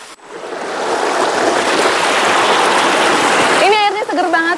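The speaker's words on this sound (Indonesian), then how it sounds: "Adanya aliran-aliran air seolah menjadi oase serta sumber kehidupan di tengah kaldera Tambora yang gersang dan perawan." A stream of water flows through the dry Tambora caldera in Indonesia, a loud, close, continuous rushing splash that fills most of the moment before a voice begins speaking at the end.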